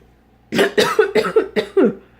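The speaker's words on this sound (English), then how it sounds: "let's just cough in the middle of this" A burst of roughly five or six sharp, close coughs in quick succession, loud and clear with no talking over them, recorded indoors early in the morning.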